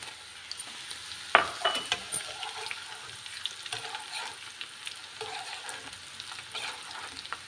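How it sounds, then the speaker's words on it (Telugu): Dried red chillies frying in hot tempering oil for tomato pickle, the stove switched off, give a steady close sizzle with a sharp burst of crackling early on and smaller pops and stirring scrapes after. "ఆఫ్ చేసుకున్నాక ఎండుమిరపకాయలు వేద్దాం"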